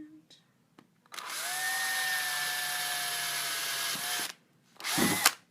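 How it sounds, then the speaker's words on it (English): A power drill whirs at a steady high pitch for about three seconds drilling into an old book to make a clock, then stops; a short second burst follows after a brief pause. "Power tools for our clock."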